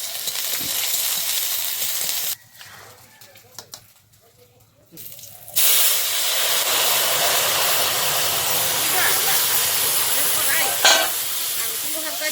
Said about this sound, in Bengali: আমি একটু নেড়ে নিই, আদাটা দিয়ে দিচ্ছি আমি